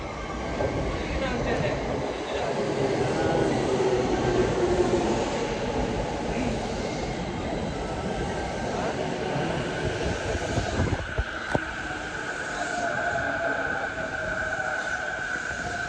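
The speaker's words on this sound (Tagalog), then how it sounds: "Waiting po ako ng train." A train pulls into a station in Japan, producing a loud, steady rumble and rolling hiss that lasts throughout, with a faint squeal of brakes or wheels near the end.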